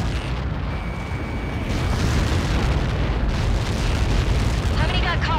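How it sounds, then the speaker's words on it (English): Missile impact blast in the jet combat game Ace Combat 7 Skies Unknown: a loud, sustained rumbling explosion that fills the scene and stays heavy throughout, with radio-style voices faintly underneath. "How many got caught in that explosion?"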